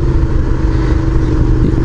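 Steady, loud engine drone from a used Suzuki SV650 naked bike on the move over a gravel track, up close and continuous, with a faint clattery texture and slight rises in revs.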